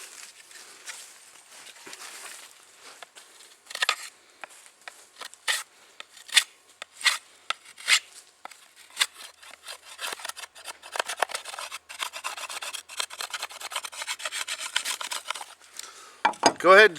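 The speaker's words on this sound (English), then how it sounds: "Go ahead and save any of the shavings that you get as you're shaping and working on this." Bamboo board edge being shaped and scraped by hand for a fire saw, giving a series of short, dry rasping strokes, close and moderately loud, that come sparse at first and then turn quicker and denser.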